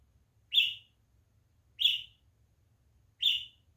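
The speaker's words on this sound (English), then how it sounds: "Bird's really having a fit." A bird repeats a sharp, high call three times at even intervals of about a second and a half, each burst loud and clear above a low, quiet background rumble.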